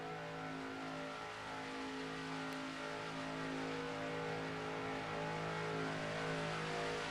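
Race car engines in a NASCAR video game at a virtual Charlotte track drone and rev continuously as a pack, a steady, layered, fairly quiet roar with no talk.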